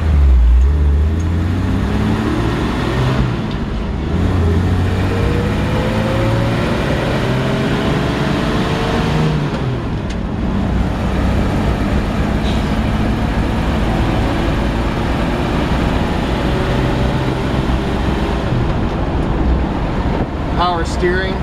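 A 1975 Toyota FJ40 Land Cruiser engine with a 4-speed drones steadily as it drives, with rushing wind and road noise throughout and a voice talking over the drive.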